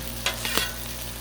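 Buttered bread sizzling on a Blackstone griddle, a steady close hiss broken by two or three sharp pops within about a second, no talking.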